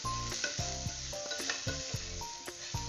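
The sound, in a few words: lightly frying drumstick pieces in a pan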